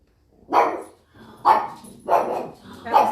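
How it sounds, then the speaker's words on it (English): A dog barks outside four times at a steady, unhurried pace. Each bark is a clear, mid-loud woof with quiet gaps between them. "I heard something outside bark."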